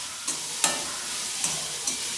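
Onions for a Kerala style beef bone curry fry in hot oil with a dense, constant sizzle, and a few spoon scrapes mark the stirring at close range.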